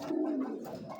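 A pair of tiger grizzle racing pigeons coo close by, a low rolling murmur that swells and dips over about a second, with a few softer coos trailing after.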